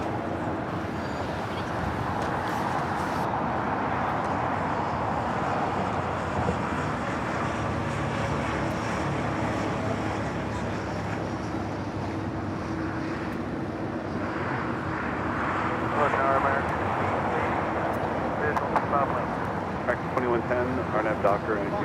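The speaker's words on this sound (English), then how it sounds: "There's a 777 freighter that's going to be taking off here shortly." Boeing 777 freighter taking off at LAX, a steady broad jet roar that swells slightly near the end, heard from a distance with wind and background noise.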